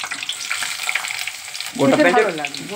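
Whole onions and garam masala hit hot oil in a wok, a bright crackling sizzle that swells into a louder burst of frying near the end, close up, with faint voice and stirring underneath.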